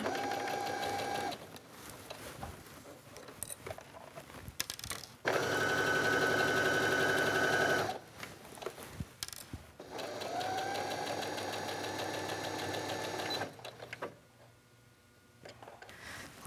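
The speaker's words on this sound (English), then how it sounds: "So let's go to the sewing machine and make this into a tube." Sewing machine stitching a fabric sleeve cuff into a tube with a half-inch seam, running in several separate bursts of steady whirring with short pauses between them, no talking.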